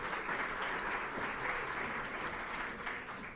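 An audience at a parliamentary open-forum working session applauds as an award is handed over. The clapping is soft and distant, dense and steady, and tapers slightly at the end.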